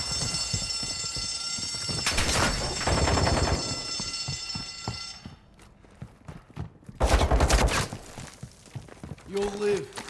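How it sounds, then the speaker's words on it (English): Automatic gunfire in the video game Warzone DMZ, bursts of rapid shots near the start and again mid-clip, mixed with game noise, other effects and a radio-style voice. "You are taking effective fire."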